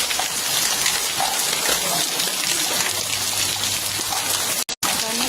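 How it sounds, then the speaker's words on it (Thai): Steady rain falling around a house, a continuous broadband wash of drops with no voices, briefly cutting out near the end. "ฝนตกฝนตกฝนตก ตอนนี้บ้านในหนึ่งฝนตกฝนตกฝนตกฝนตก"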